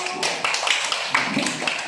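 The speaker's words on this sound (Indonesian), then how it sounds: "Oke, tepuk tangan untuk kelompok 1." A classroom of students claps for a group of classmates, a short burst of scattered, overlapping hand claps at steady moderate loudness with no voices over it.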